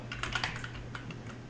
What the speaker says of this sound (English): type in a bunch of text